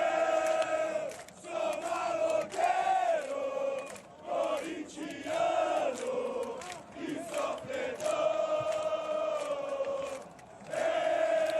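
Corinthians football supporters packing the away section at Barradão stadium, a loud sustained crowd chant with rising and falling sung tones, continuous and dense throughout with brief dips.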